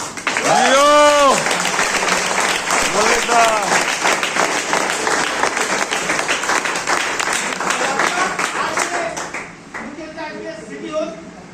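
Loud applause from an audience at a business meeting, thick rapid clapping with cheers and whoops rising early, gradually thinning, then fading near the end as a voice begins talking.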